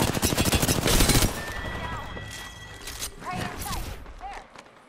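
Rapid gunfire bursts from a console shooter game, loud and dense at first, then easing into scattered shots under radio-style callouts and game voice lines.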